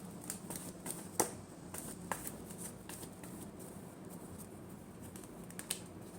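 Tarot cards are shuffled by hand in a quiet room, giving soft rapid riffling and patter with occasional sharp snaps, close and faint.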